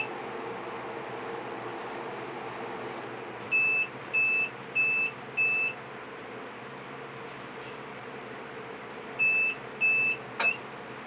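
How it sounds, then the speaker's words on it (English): Inverter alarm sounding on a low-voltage disconnect from a 314Ah LiFePO4 battery system: two bursts of four evenly spaced electronic beeps, the second set near the end, over a steady background hum. "Sounds like the inverter is having a low voltage disconnect."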